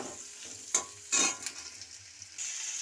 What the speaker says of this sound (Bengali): পেঁয়াজটাকে আমি তুলে নাড়াচাড়া করছি, হালকা লাল হয়ে যাবে, আমি ভেজে নেব।